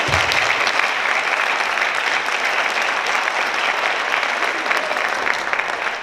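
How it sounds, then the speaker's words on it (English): Steady, dense applause from a large audience at a school board meeting honoring students of the month, continuous and fairly loud throughout. "please give us a round of applause"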